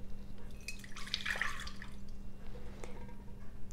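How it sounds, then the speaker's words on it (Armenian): Water tipped out of a rinsed non-aluminium cooking pot, filled and swirled with very cold water before milk goes in; a steady close dripping and splashing stream with a brief louder burst, no talk. "ողողում ենք կացան և թափում ենք ջուրը"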